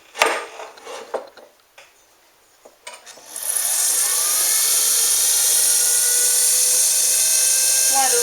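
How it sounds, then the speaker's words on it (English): A Sears Kenmore sewing machine winds a bobbin, starting with a few brief clicks and taps before settling into a loud, steady high whirring motor drone that runs continuously to the end. "Wind a little bobbin thread on there."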